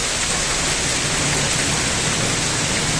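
Steady heavy rain driven by strong gusting wind during a storm with a power outage, a dense continuous hiss filling the whole stretch with a low rumble beneath, loud and close with no voices.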